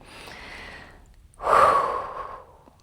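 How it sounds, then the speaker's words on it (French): One deep, audible inhalation during a calm guided breathing exercise for settling the nervous system, a long airy breath in after a quieter stretch of breathing, with no talk. "Tu peux prendre une bonne inspiration."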